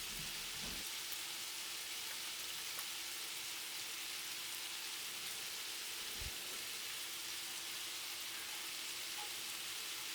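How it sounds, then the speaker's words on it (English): Chicken sears in a pan with a steady, soft sizzling hiss that holds evenly throughout, broken only by a couple of brief low clunks, with no voices. "The meat is nicely seared"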